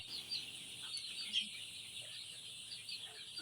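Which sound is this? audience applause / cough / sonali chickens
sonali chickens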